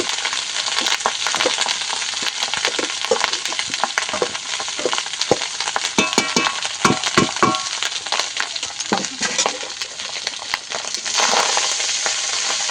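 Cooked rice stir-fried in a hot oiled pan for hilsa fish fried rice, a steady loud sizzle with scraping and stirring clatter from a spatula, sharper scrapes near the middle, continuing throughout without talk.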